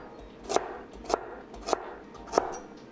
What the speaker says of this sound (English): Then we'll cut into 1/4-inch thick slices.